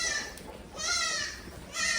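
A Beetal goat without horns bleats twice nearby, drawn-out wavering calls separated by a short pause.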